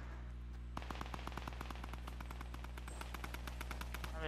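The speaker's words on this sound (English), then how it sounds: "I'm just shooting." Rapid automatic gunfire from a video game crackles in a steady stream of sharp, evenly spaced shots over a constant low background hum, fairly faint with no talking.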